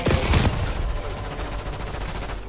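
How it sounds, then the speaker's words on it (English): Popping gunshots in a first-person shooter video game, a couple of sharp bursts at the start followed by a quick rattling run of shots, fairly close and alone. "that like popping sound when you shoot somebody sounds straight up out of Halo 5"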